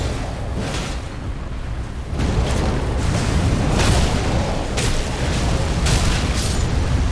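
Fire attack explosions in the video game Elden Ring, a steady roaring rumble with repeated booming bursts that grow louder after the first couple of seconds and keep flaring.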